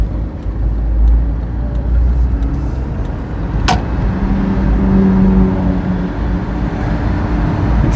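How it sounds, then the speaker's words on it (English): Race cars passing over the Fuji Speedway track overhead, heard from the tunnel below as a loud, steady rumble of engines and road noise with one sharp transient near the middle and no talk. "You see the cars going over the racetrack just above me."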